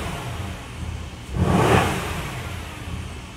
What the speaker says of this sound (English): Give it a couple revs, make sure it sounds good.